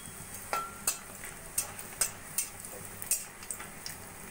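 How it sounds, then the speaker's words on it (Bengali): Bori lentil dumplings frying in the leftover oil from bitter gourd for Bengali shukto, a soft steady sizzle broken by a series of sharp spits and pops spaced about half a second apart, close and fairly quiet. "ওই তেলের মধ্যেই আমি কয়েকটা বড়ি ভেজে নেব।"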